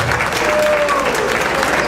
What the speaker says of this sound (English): if we can hold the applause until everybody has been introduced